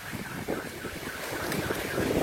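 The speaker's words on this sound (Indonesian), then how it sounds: "Pondok Ungu Bekasi, Puting Beliung." Strong whirlwind (puting beliung) wind roaring steadily in Pondok Ungu, Bekasi, a loud continuous rushing gust buffeting the microphone with no voices.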